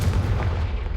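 The Confringo explosive spell goes off in Hogwarts Legacy as a deep, rumbling blast that fills the brief moment, loud and close with no talking.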